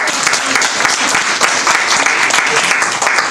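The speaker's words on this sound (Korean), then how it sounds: "맞아, 박수." Audience at a youth political concert workshop breaks into applause, a dense, loud burst of many hands clapping at once, steady throughout the short stretch.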